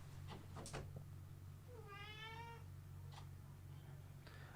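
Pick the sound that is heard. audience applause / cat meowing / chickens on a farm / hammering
cat meowing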